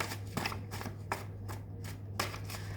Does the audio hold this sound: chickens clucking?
no